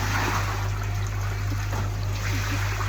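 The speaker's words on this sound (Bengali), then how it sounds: "জল পড়তেছে" Water pours steadily from a tap at close range, a continuous splashing trickle with no other sounds.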